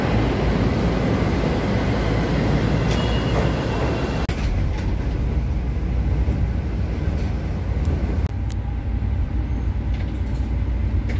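A Chicago train carriage rumbles along in a continuous loud roar of wheels and motors, heard from inside with no talk.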